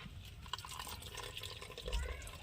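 Leafy greens are swished and squeezed by hand in a tub of water, giving soft sloshing and trickling splashes at close range, fairly quiet, with a faint low thump near the end.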